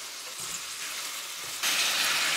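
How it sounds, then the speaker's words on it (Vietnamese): Pork frying in oil in a pan: a steady, close hiss and crackle of sizzling that grows noticeably louder and brighter partway through, with no voices. "Còn lại dầu trong chảo thì tiếp tục cho thịt vào chiên nè"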